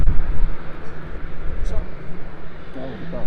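A small airplane takes off from a short mountain airstrip at Lukla in the Everest region, its engine a loud, rumbling drone dominated by heavy wind buffeting, with talk mixed in.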